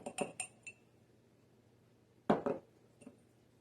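Glass canning jars knock and clink together as they are handled, a quick cluster of sharp chinks followed by a pause, then another close, bright burst of clinks and a softer final tap.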